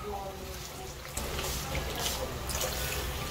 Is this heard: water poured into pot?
yes